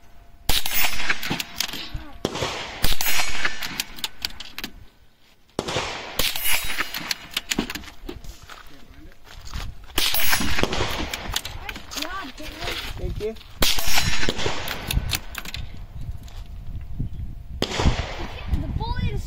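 Outdoor target shooting brings repeated loud gunshots in irregular bursts, sharp cracks separated by short pauses, with people talking between and over the shots.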